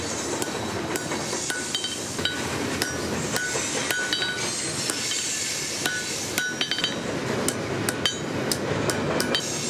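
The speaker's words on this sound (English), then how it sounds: "Once the single leaf is ready at the anvil, I then get the double leaf and I squish them together." Hot steel leaves for a blacksmith's drawing compass are forge-welded on an anvil with a hammer: rapid, irregular metallic strikes and ringing clinks, close and loud, over a steady background roar with no talking.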